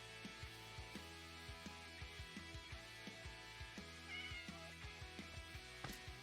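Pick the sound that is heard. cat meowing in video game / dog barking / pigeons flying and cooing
cat meowing in video game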